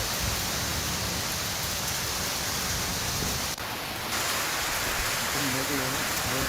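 Heavy, sudden rain pours down during a storm in Silchar, a steady broadband downpour of roughly even loudness throughout, with a brief dip near the middle and faint voices underneath.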